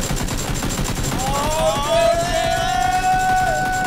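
Dense, continuous game gunfire crackles through the whole stretch alongside a steady electronic hum, with rising synthetic tones swelling in the background; the game's gunfire sounds are glitching from a bug.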